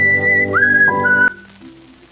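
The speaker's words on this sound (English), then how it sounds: "That's all the whistling I have." A person whistles a short, bright phrase of sliding held notes at a church Sunday service, heard close and clear over a low background hum before it fades out.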